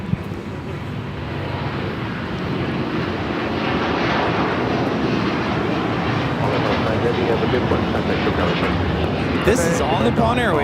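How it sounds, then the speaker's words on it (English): An All Nippon Airways Boeing 787-9 Dreamliner takes off from LAX, a broad jet roar that swells and holds steady at a distance, with faint wind buffeting. "This is All Nippon Airways Flight 5 taking off to Tokyo Narita on a 787-9 Dreamliner"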